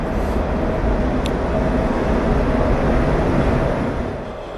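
A steady, loud, low rumble at a railway station in Romania as a train stands or passes nearby, unbroken for several seconds, with no voices.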